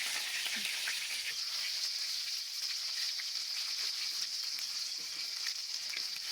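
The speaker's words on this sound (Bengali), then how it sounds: "আমার পাঙ্গাস মাছগুলো ভাজা হয়ে গেছে।" Pangas catfish pieces fry in hot oil, a steady bright sizzle and crackle that continues evenly throughout, close and moderately loud with no talking.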